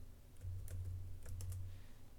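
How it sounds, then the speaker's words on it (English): Typing on a computer keyboard, a short burst of soft, close key clicks over a faint low hum. "when you type in Zap.Works in Google"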